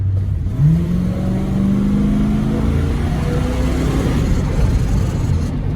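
A 1973 Plymouth Fury V8 with its four-barrel carburetor opened accelerates in second gear, a loud, steady engine roar rising in pitch through the clip, heard from inside the car with road and wind noise and no talk.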